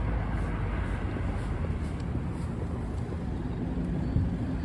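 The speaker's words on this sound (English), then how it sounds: "Man, these cars are flying now." Cars speed past on a Manhattan street at night, a continuous low traffic rumble with a brief louder swell near the end, unbroken by any talking.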